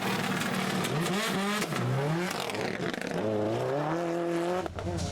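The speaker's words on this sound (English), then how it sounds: "a quick reverse, and the Impreza was on its way again" Subaru Impreza rally car on a rally stage, engine revving hard as it reverses and then pulls away, rising and falling through the gears, loud and close, with no talk.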